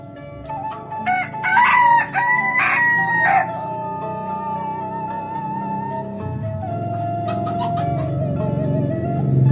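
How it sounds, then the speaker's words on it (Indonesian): A rooster crows close and loud, one long strained cock-a-doodle-doo, followed by a quieter stretch of low farmyard clucking and background ambience. "Sok kongkorongok deui jago."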